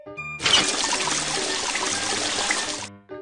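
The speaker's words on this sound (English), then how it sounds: "Turn on the faucet." Water runs from a faucet in a steady stream for a couple of seconds, starting abruptly and stopping cleanly, close and moderately loud, with faint music-like tones before and after.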